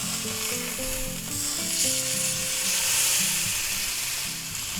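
Sirloin steak sizzles in butter in a pan just after being flipped, a steady bright frying hiss that swells and holds for several seconds, with a low hum of background music or crowd noise underneath at an outdoor 4th of July gathering.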